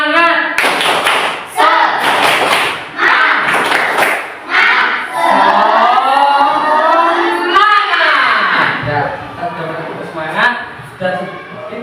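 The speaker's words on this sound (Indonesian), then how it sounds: "kita tepuk semangat. Tepuk semangat." Fourth-grade pupils in a classroom perform the rhythmic 'tepuk semangat' clap, bursts of sharp patterned claps and thumps mixed with children's loud chanting voices, close and energetic, then giving way to a lone voice speaking.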